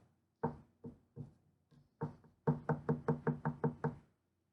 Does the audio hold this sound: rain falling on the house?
no